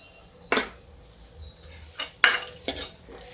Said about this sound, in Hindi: ये देखिए मेरा तड़का तैयार हो रहा है।